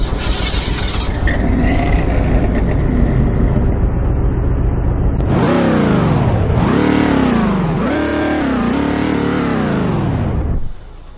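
A video-game Z28 trim car engine revs hard several times in quick succession, each rev climbing sharply then dropping, loud and close, after a steady idle rumble.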